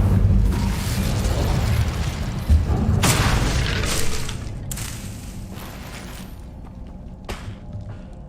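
A Hogwarts Legacy Incendio fire spell bursts with a deep boom and roaring whoosh, then the fiery rumble fades into quieter ambience with a few faint later pops.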